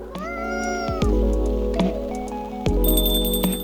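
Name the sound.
cat meowing in video game Coffee Talk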